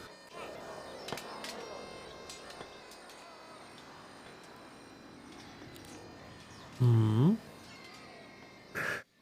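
Kittens meow in the fantasy strategy game Heroes of Might & Magic: Olden Era, with a couple of short, distinct mewing calls rising over a quiet, steady game ambience, one louder and one brief and higher near the end.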